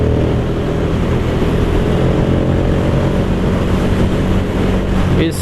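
A new, lightweight motorbike on fresh tyres being ridden, its engine droning steadily and loudly under heavy wind rush for the whole stretch, with no talking.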